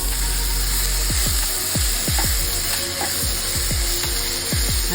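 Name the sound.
tomatoes sautéing in a pan for onion coconut chutney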